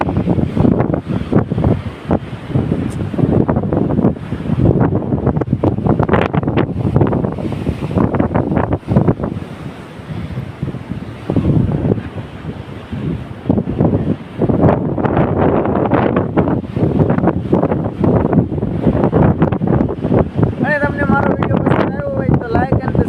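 Strong wind at the seashore buffets the microphone in loud, rumbling gusts over the wash of sea waves, with voices partly buried in the noise.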